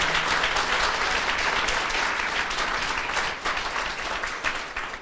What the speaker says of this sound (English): Everyone, give him a round of applause for encouragement.